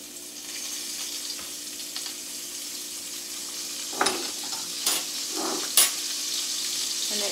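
Cabbage fries in a pan as minced garlic goes in, a soft, steady sizzle with a faint hum, punctuated by a few sharp clinks and stirring scrapes near the end.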